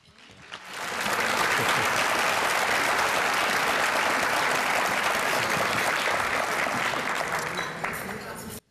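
Sustained audience applause at an adult education institute dinner, rising quickly and holding dense and steady for several seconds before tapering off at the end.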